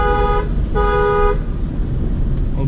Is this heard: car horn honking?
yes